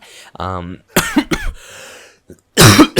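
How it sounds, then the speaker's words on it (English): A man coughs several times in short harsh bursts, close and loud, with a throat-clearing rasp and breathy gaps between, ending in a heavier cough. "Very interesting timing for me to cough there"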